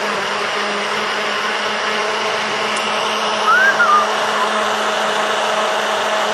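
A blender grinds strawberries with sugar in a steady, continuous whir that holds level from start to finish, with a brief faint chirp partway through.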